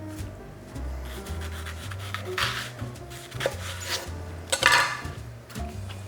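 A knife cutting leeks on a wooden board, with close, repeated chopping taps and scraping strokes, some sharper and louder, against a low background hum.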